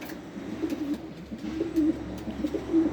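Newly arrived flying pigeons coo in their coop, a run of low, rolling coos repeating close by against a faint background.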